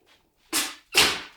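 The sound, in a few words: West Highland terrier sneezing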